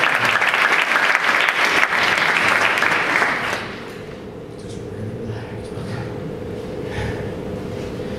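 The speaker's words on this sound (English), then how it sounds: "let's give her a big round of applause." An audience at a hypnotist show claps loudly and densely for about three seconds, then the applause drops away, leaving a quieter room with a low hum.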